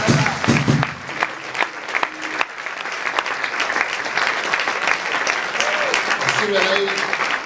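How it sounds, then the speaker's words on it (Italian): Concert audience applauding at a live ensemble show in Comeglians, dense clapping that starts strong, settles into a steady wash and continues with faint talk and instrument sounds underneath. "Un applauso."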